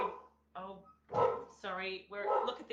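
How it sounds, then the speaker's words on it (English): A dog barks several times in short, sharp yips and whimpering bow-wows, fairly close and loud, while a person speaks briefly in between. "well, they can hear the dog barking."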